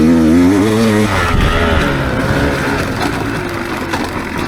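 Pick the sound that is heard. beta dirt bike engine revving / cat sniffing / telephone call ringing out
beta dirt bike engine revving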